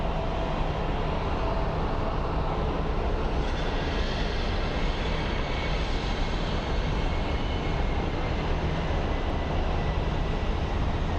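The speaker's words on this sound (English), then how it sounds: "It looks like an Alaskan Airlines 737 MAX coming in." An Alaska Airlines Boeing 737 MAX arriving at Phoenix Sky Harbor airport, a steady broad engine roar that holds at an even level throughout, heard alone with no talk.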